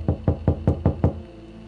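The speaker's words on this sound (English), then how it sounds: "Wait, I heard a knocking." Six sharp knocks in quick, even succession, loud and close with a hollow resonant thud, then stopping abruptly; no voices.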